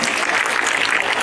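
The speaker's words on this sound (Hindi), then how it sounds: "आप सभी ने खुद के लिए जोरदार तालियां बजाई।" A crowd at a meditation retreat in Surrey claps loudly for themselves, a dense, continuous wash of many hands that sounds close and full throughout the brief burst.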